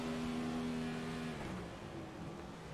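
A race car engine in the iRacing sim at Twin Ring Motegi revving in neutral, a loud steady mechanical drone whose pitch sags and settles toward idle, heard alone.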